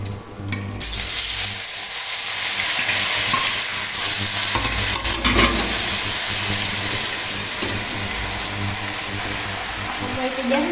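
Curry leaves hit hot oil while tempering methi dhokla, a loud, steady crackling sizzle over a low hum, with stirring scrapes throughout.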